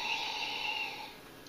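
A quick, close sniff of a blackcurrant-flavoured drink made from powder in a UK ration pack, a single drawn breath through the nose that fades out.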